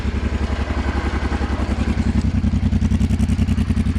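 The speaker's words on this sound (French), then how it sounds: "Donc alors on va la démarrer." A Honda 600 Transalp motorcycle engine, parked on a slope, runs with a loud, steady, pulsing low thump close by, alone without talk.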